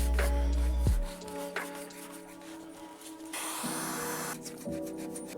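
Short hiss of wax and grease remover sprayed from a can onto a motorcycle fuel tank, followed by quiet rubbing and handling sounds close by.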